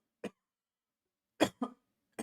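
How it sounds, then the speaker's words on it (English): A person coughs close up: one short cough, then a pair of quick coughs a second later, and a final brief cough, with silence between. "I got a fucking cough"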